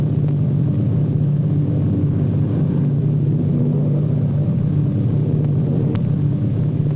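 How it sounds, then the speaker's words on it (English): A steady, loud, droning rumble of a propeller airplane on its approach to land at an airfield in 1948, continuous and unchanging throughout with no voices. "Our pilot brings his plane in to a smooth landing."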